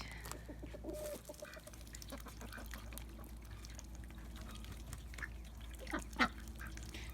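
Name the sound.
ducks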